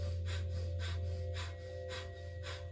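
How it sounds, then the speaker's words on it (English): Forceful rhythmic bellows breathing, with about six sharp, loud exhalations pumped at a steady quick pace, close and alone. "the bellows breath"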